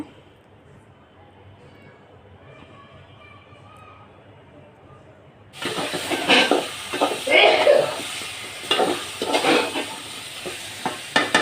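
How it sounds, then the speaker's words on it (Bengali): Amaranth stalks and potatoes sautéed in a pan, to be covered afterwards: near silence, then a loud burst of sizzling and hissing with brisk stirring scrapes that carries on, with a voice speaking over it. "এখানে আমি আর ডাটার আলুটা ভালোভাবে কষিয়ে নিব ঢেকে দিয়ে"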